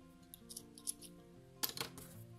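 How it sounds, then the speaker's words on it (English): Scissors snip through crochet yarn at a finished amigurumi fish, giving a couple of soft clicks and then a sharper cut near the end over a quiet background hum. "Cut the yarn,"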